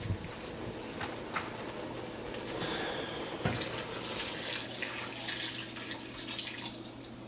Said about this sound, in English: so I'm going to add some more water now